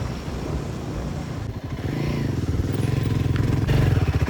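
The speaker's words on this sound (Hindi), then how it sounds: "बट बाइक चल रही है हाई रेव में अब" A motorcycle climbs a snowy mountain road toward Chopta with its engine held at high revs. The loud, close, rough drone grows louder and more pulsing toward the end, with some clatter.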